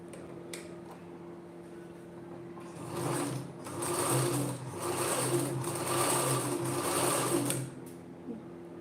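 A domestic sewing machine runs in a steady whirring burst while stitching the round neckline of a blouse, starting and stopping alone without talk.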